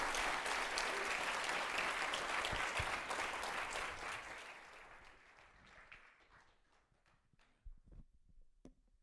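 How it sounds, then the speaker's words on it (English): A conference audience at a Bitcoin scaling event applauds after a talk, loud dense clapping that thins out and fades into a few scattered claps and faint room noise. "Big round of applause for Nicholas Negroponte,"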